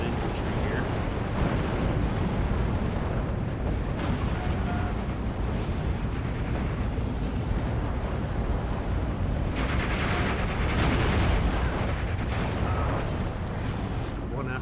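Off-map artillery strike exploding in Steel Division 2 video game, heard as continuous rumbling booms and blasts under a dense battle soundscape, with a voice talking over the din.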